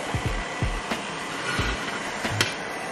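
A robot vacuum cleaner sweeps and vacuums a floor, a steady whirring hum broken by several low knocks and bumps from the brushes and body, heard close with no talk.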